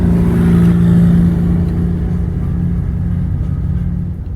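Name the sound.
big tow truck towing a bus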